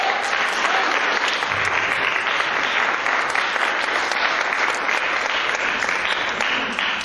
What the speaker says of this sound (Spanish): ¿Por qué no le da un aplauso al Señor Jesucristo?